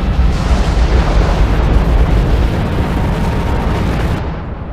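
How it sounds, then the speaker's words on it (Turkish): Mount Vesuvius erupting explosively, a loud sustained rumbling roar with heavy low-end turbulence that fades slightly toward the end. "Vezüv yanardağı bütün şiddetiyle patladı"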